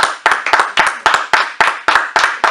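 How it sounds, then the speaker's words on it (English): A few people clapping after a performer's set, loud and close, with about a dozen sharp, evenly spaced claps in a steady rhythm that sound more like a small group than a large applauding crowd. "Clap them up, people."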